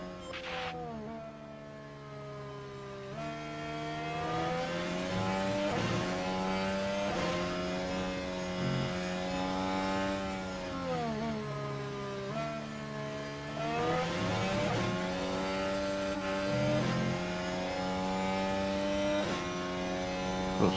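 Formula 1 cars in F1 Manager 24 accelerate around the Lusail circuit, one of them a Porsche, giving a continuous high engine whine that climbs and dips in pitch through repeated surges, with no talk.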